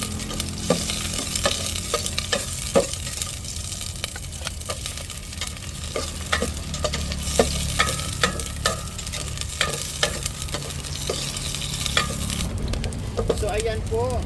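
Food sautéing in a pan outdoors, with a continuous sizzle under frequent clanking stirs and scrapes of a utensil against the pan, at moderate loudness.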